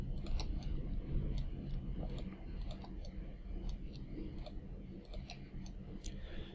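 A computer mouse clicks repeatedly while polygons are selected in 3D modeling software, crisp light clicks in irregular pairs and singles over a low steady background hum, close and fairly quiet, with no speech.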